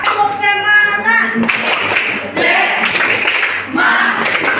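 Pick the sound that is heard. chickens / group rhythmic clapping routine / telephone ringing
group rhythmic clapping routine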